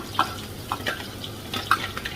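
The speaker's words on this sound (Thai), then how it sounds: "ก็เลยใช้ผัดเอาให้มันหอมเป็นก็ดีกัน" Chicken being stir-fried in a pan for a northeastern Thai village chicken curry: scattered scraping and clinking of a utensil against the pan over a soft, constant sizzle, with a few sharper knocks.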